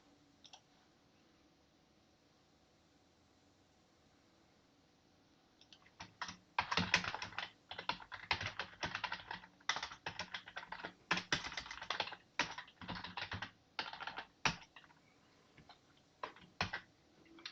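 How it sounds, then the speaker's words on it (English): Quick bursts of typing on a computer keyboard start after several quiet seconds, the clicks close and crisp in irregular runs with brief pauses, including a return key press, and no one speaks. "So I hit return and I kept typing and then I hit Control D."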